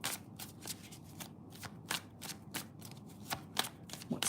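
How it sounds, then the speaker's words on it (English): A deck of cards being shuffled, a rapid run of crisp riffling bursts and soft slaps repeating in an uneven rhythm, close and clear with no talk. "Let's pick a card for Raquel, pre-order"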